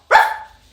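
A child imitates a little puppy with a single short, bright bark-like yip, loud and close, fading quickly into quiet.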